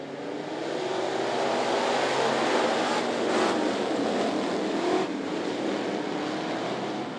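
Race cars in the B Hobby Division flag race at I-75 Raceway roar around the track in a steady, dense engine drone that holds loud and constant, with a slight swell near the middle.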